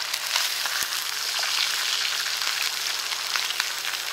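Deer heart frying in a pan over a camp cooking setup, giving a steady, close, even sizzle with fine crackling throughout and no talking.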